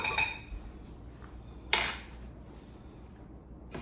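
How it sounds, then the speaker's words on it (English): Lean pieces of meat stirred in a slow cooker, with two distinct clinks of a utensil against the pot separated by quiet, close and isolated. "I'm gonna give this a stir."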